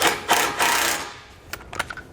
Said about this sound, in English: We'll use a 17mm socket for the 10mm bolt out here.